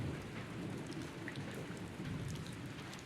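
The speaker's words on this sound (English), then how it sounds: "I could hear thunder roar in the distance. The rain began to pick up." Thunder and rain in the Higurashi visual novel: steady, dense rainfall hisses over a low, distant thunder rumble, with no voices.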